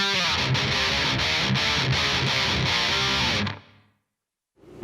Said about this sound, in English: you don't want too much reverb on your rhythm guitars